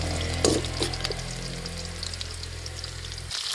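Sautéed onion and garlic poured from a pan into a pot of mung beans: a short wet pour and clatter at the start, then a soft steady simmering hiss, with no talking.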